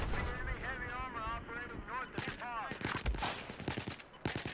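Bursts of automatic gunfire from the video game Battlefield 4, sharp crackling shots in irregular volleys mixed with chaotic in-game noise and a voice talking over the action.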